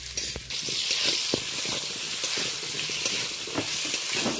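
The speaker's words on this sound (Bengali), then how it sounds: "লবণ হলুদ দিয়ে কেটে রাখা ডুমু ডুমু করে আলুটা ভেজে নিচ্ছি।" Diced potatoes seasoned with salt and turmeric fry in hot oil, giving a loud, continuous sizzle broken by repeated scraping and stirring taps of a spatula, with no talking.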